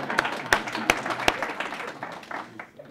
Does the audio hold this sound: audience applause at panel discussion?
yes